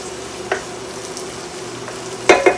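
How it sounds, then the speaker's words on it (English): Vegetables sautéing in oil for callaloo and saltfish: a close, even sizzle with two brief spoon scrapes against the pan, one early and a double one at the end. "And then we just go ahead and saute that"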